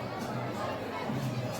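Dense crowd murmur outside a busy Maharashtra temple during a palanquin procession, a steady mid-distance wash of many voices with no single sound standing out.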